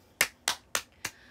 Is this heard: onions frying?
no